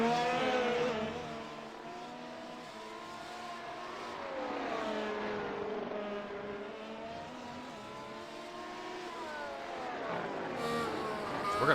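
F1 race car engine heard on board at Monza in a racing video game, a steady high whine rising and falling through gear changes, loud and continuous with no talk.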